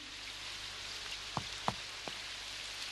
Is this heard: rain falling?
yes